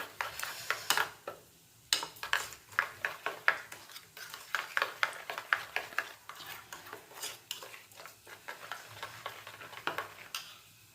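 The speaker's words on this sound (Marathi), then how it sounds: "चवीप्रमाणे मीठ टाकायचे हे छान फेटून घ्यायचं दह्यामध्ये हे पूर्ण मसाले" A spoon whisks salt, red chilli powder and other spices into yogurt in a bowl, giving rapid close clinking and scraping taps in a steady rhythm that continues without pause, with no speech.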